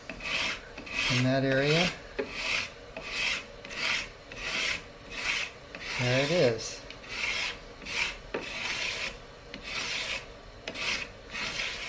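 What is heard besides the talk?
filing to trim guitar fretboard binding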